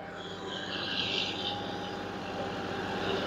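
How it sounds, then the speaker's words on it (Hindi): A John Deere 5305 tractor engine running steadily at 2000 rpm, a continuous droning hum with a whining tone, moderately loud and unchanging, no talking. "2000 आरपीएम पे है दोस्तों जॉन डियर।"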